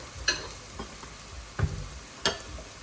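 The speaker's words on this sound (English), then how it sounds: "Continue stirring so that they can turn golden brown evenly" Food frying in a pot toward golden brown is stirred with a utensil, quiet steady sizzle broken by four distinct scraping knocks spaced irregularly, close up with no talking.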